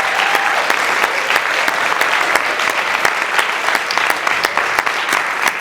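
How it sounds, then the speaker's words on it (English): Loud, sustained applause from an audience at a poetry recitation competition semifinal honoring the competitors, steady clapping throughout with no gaps. "let's give all of our competitors one more round of applause"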